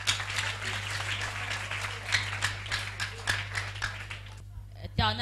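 Audience applauding at a school protection prayer gathering, dense sustained clapping and cheering throughout over a steady low hum, thinning out just before the end.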